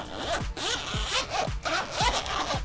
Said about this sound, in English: It is a fox leather casing with a nice little zipper on it